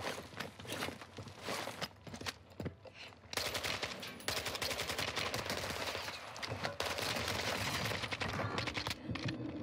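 Bursts of automatic gunfire in a Warzone 2 match in Vondel Park, fairly quiet and distant-sounding, with footsteps and shifting movement in between the volleys.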